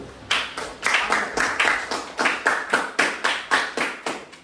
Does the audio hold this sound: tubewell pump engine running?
no